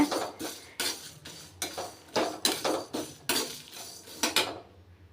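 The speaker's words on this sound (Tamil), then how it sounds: "ஆஸ் யூஷுவல் இந்த பருப்பு செவக்கிற வரைக்கும் நம்ம வறுத்துக்கலாம் இதை ட்ரையாக தான் வறுக்கிறேன் ஆயில் எதுவும் விட்டுக்கல" Lentils dry roasting in a pan without oil, stirred with a metal utensil, producing a series of sharp scraping clinks and rattles in an irregular rhythm, close and fairly quiet, ending abruptly.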